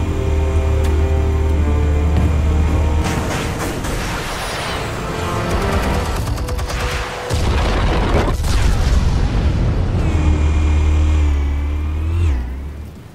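Explosions in the video game Batman The Telltale Series: loud booming blasts mixed with a roaring engine-like rumble and debris, building and swelling over several seconds before dropping off at the end.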